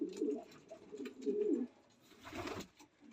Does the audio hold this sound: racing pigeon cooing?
yes